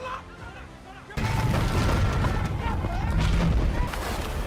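A sudden loud blast erupts after a quieter stretch, followed by a sustained rumbling roar with crackling debris and voices underneath.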